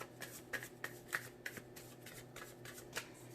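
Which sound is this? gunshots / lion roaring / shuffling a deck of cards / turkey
shuffling a deck of cards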